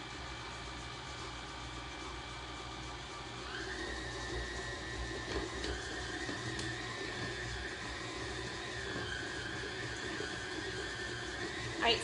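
A stand mixer runs steadily on its stir setting, whipping butter for Valentine shortbread cookies, a continuous motor whine that shifts pitch partway through, close and alone with no talking.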